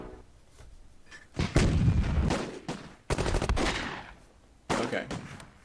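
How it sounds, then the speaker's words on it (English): An 88 gun firing in the World War II strategy game Close Combat: heavy booming blasts with rumbling low-end tails, several overlapping bursts of battle noise, loud and dense, with a faint voice underneath. "There's the 88. Shooting at us."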